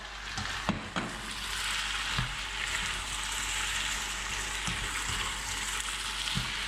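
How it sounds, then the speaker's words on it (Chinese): Bell peppers being stir-fried with Kung Pao chicken in a hot pan, a steady loud sizzle with a few sharp clanks and scrapes of the spatula at irregular intervals. "迅速翻炒一下就起锅了。"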